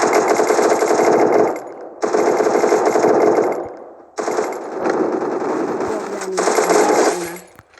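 Loud sustained automatic gunfire in the video game Free Fire comes in long continuous bursts separated by brief pauses, close and dominant throughout.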